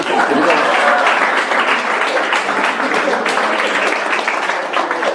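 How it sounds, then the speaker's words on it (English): Loud, dense applause from a comedy show audience, a continuous wash of clapping close by that stays steady throughout. "Give them some applause."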